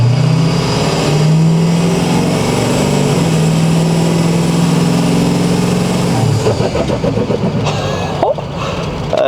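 A Ford 6.0L Powerstroke diesel truck with a suspected boost leak or turbo fault, its engine droning loudly while driving, the pitch shifting as it pulls, then a rougher rattling stretch near the end.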